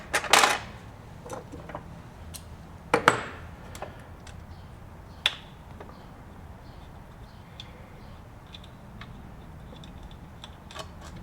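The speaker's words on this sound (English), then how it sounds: "you can drop the 2 screws in the base plate here." Two small screws dropped into the metal base plate of a White 710 sewing machine, giving a pair of close, bright clinks near the start, followed by faint scattered small taps.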